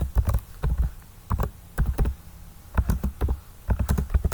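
Close keystrokes on a computer keyboard while C++ code is typed, clicking in short quick clusters separated by brief pauses, with no talking.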